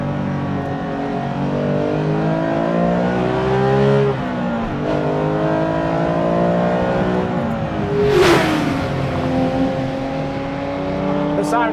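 A Ruf SCR with a 911 GT3-like flat-six and a carbon airbox accelerates hard through the gears. The loud, rising engine wail pulls continuously, with brief dips at the upshifts, heard from inside the car.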